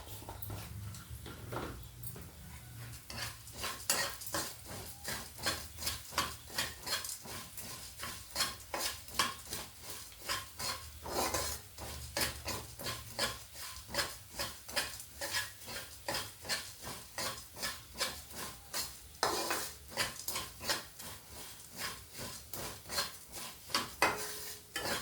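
Spices, including asafoetida, frying in a pan while being stirred for a Telugu potato and fenugreek leaf curry, with repeated rhythmic scrapes and clinks of a utensil against the pan over a soft sizzle, close and fairly quiet.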